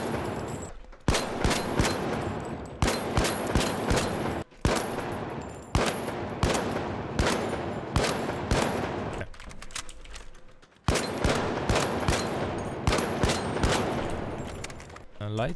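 Pike-556 firing in The Finals, a heavy-class weapon, loud close bursts of rapid automatic gunfire with brief pauses between volleys.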